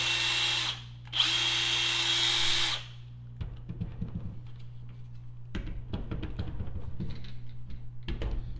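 A Snap-on 3/8-inch impact wrench whirs in a steady burst, then a few seconds later rattles in choppy, hammering bursts over a constant low hum; no talking.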